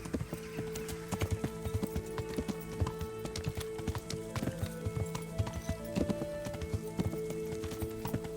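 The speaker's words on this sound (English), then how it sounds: "Let's go ahead and gallop." In the game Kingdom Come: Deliverance, a horse gallops with a fast, steady clip-clop of hooves that runs evenly and close-up from start to finish.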